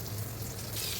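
Butter sizzles on a hot tava for a small breakfast of bread, a brief steady crackling hiss heard up close.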